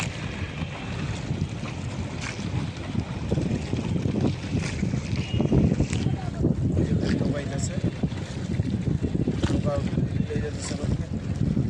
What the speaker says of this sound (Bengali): আমরা নৌকায় উঠে গেছি, দেখেন নৌকার ভিতরে বৃষ্টি পড়তেছে।